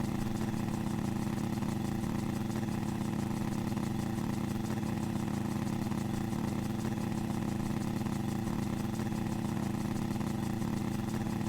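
A BYOB-2000 barrel helicopter in Microsoft Flight Simulator runs its engine at a steady idle, giving an unbroken low mechanical drone and buzz at constant level with no voices.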